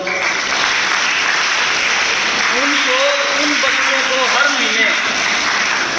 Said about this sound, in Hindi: उन 25 बच्चों के लिए जोरदार तालियां बजाओ